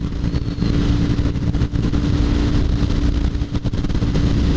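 A BMW F800GT motorcycle engine drones steadily while riding with heated grips on, a constant loud mechanical hum with wind noise and no breaks throughout.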